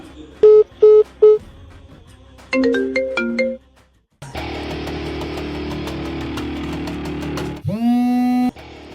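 A phone call is dialed: a few clear keypad tones, then a rising series of melodic beeps, followed by a loud, sustained ringtone that ends with a final sweeping chime. The sounds are close and prominent, with no talking.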